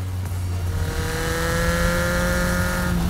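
A custom three-wheeled trike built around a Kawasaki Ninja 900R engine runs close by, its steady droning hum shifting upward as the engine revs; no talking is heard.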